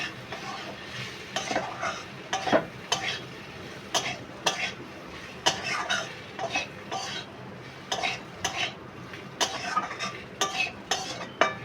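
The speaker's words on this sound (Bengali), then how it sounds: "এবার নাড়িয়ে নেব।" Ground cumin and coriander are stirred in a hot pan for a mashed pumpkin dish: a spoon scrapes and taps the pan in repeated nearby strokes over a soft frying hiss.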